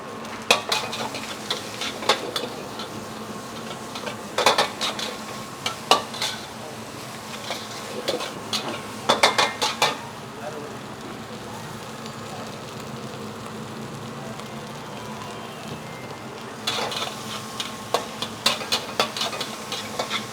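A spatula scrapes and clanks through a seasoned stir-fry in a pan in a busy restaurant kitchen, bursts of metal stirring repeating over a constant sizzle and kitchen hum.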